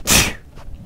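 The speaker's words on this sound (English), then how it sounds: "Oh, jeez, I'm going to sneeze." A single loud, close human sneeze, a sharp breathy burst that fades quickly into a faint exhale.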